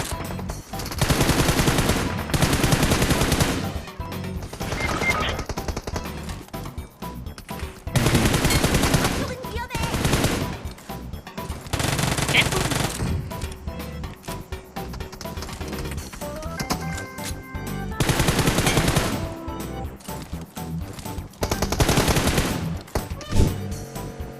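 Rapid bursts of automatic gunfire from an Uzi in a video game come in loud clusters several seconds long with short breaks between them, and players shout briefly among the shots.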